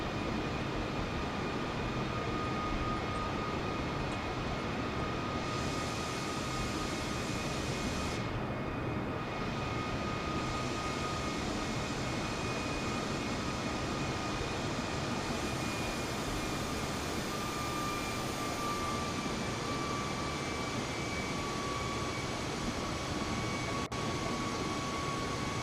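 Airplane engine in Microsoft Flight Simulator, a continuous broad roar with steady whining tones running over nearly half a minute, droning evenly at moderate level without speech.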